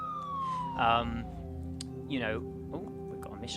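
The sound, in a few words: ambulance siren in the SimCity (2013) video game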